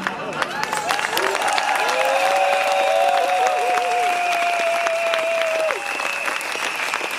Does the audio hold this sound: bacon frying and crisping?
no